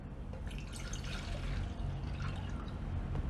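A steady, close stream of water is poured into a container for a homemade gray-hair dye, running continuously with a splashy trickle throughout.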